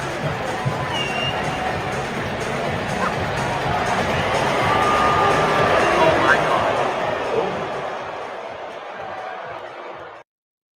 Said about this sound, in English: This was the reaction from the crowd.